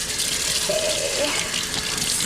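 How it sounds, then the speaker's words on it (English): Warm water running from a kitchen sink tap while horseradish roots are being washed before peeling, a steady close broadband rush of flowing water that fills the whole clip. "so we are just going to get some warm water going here"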